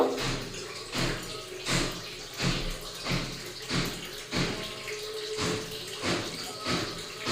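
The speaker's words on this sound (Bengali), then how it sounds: "কাঁচা লঙ্কাটাও ধুয়ে নেব" Green chilies rinsed in water by hand, producing rhythmic repeated sloshing and splashing strokes roughly every half second, close and moderately quiet.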